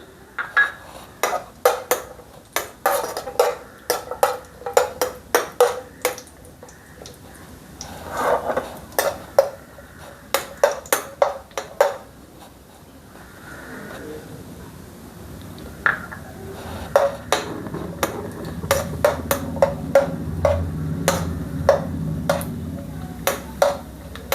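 Cashew nuts roasting in ghee in a pan, stirred with a metal spoon that gives repeated sharp clinks and scrapes against the pan over a soft background sizzle.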